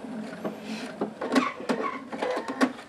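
Domestic sewing machine running short bursts of stitching while a backstitch is sewn to lock a seam on a quilt block, with quick mechanical whirring runs and small clicks, close and moderately loud.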